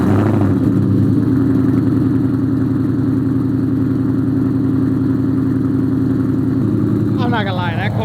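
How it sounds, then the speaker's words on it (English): A hail-damaged Ford Mustang SVT Cobra Terminator starts cold, its engine and exhaust settling into a loud, steady rumbling idle close by, with a brief higher-pitched sound near the end. "that cold start was pretty weak. Woo, that exhaust sounds good though."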